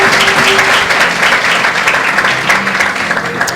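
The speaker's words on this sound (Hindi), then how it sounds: "clap your hands and praise the Lord." A church congregation clapping hands, dense, loud and sustained applause from many people filling the room without a break.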